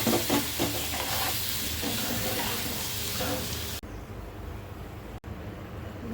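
Spicy curry sizzles and bubbles in a pan after water is poured in, a loud crackling hiss with stirring noises that drops abruptly to a quieter background rumble partway through.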